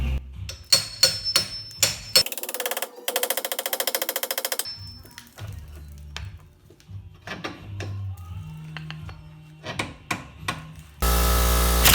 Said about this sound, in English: so use ball joint tool. Pop this guy out of here.